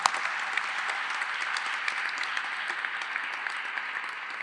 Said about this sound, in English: let's give another round of applause to them